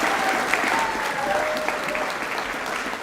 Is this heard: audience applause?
yes